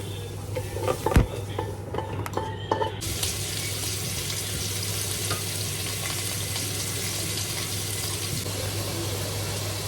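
Beaten eggs cooked like an omelette hit a hot pan with a few clanks and knocks, then a steady loud sizzle carries on alone.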